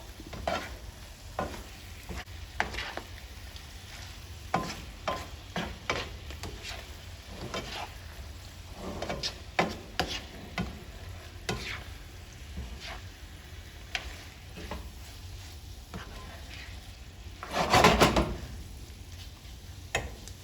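Vegan siopao filling is stirred in a hot pan, with a low continuous sizzle and a long run of rhythmic spatula scrapes and taps, plus one louder burst near the end.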